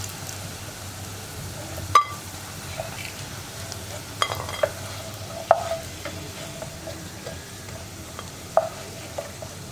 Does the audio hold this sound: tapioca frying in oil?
yes